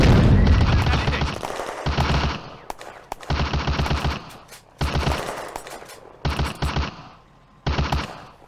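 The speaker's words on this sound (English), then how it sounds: "the Soviet mortar crew pinned down under heavy small arms fire" Heavy small arms gunfire in the World War II game Firefight Ost Front, with loud rapid bursts of machine-gun and rifle fire in repeated volleys separated by short pauses, some rolling booms underneath.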